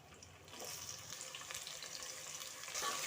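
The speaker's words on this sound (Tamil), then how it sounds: "நம்ம இப்போ வதக்கி வச்சுருந்த வெண்டைக்காயை எண்ணெயில் 1 நிமிஷம் போல் வதக்கி எடுத்துக்கலாம்." Okra sautéing in sesame oil gives a soft, steady sizzle that keeps going and grows slightly louder near the end.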